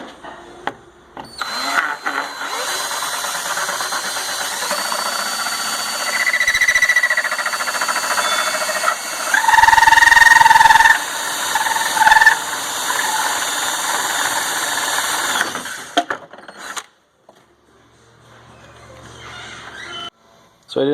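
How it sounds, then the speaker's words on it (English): A 3-inch hole saw bores a hole during a heater install on a Polaris Ranger 900XP, a loud, steady grinding whine that runs for about fifteen seconds before cutting out, then near silence. "A 3-inch hole saw."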